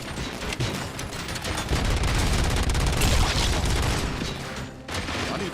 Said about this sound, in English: I can't even see where these niggas are shooting from for real.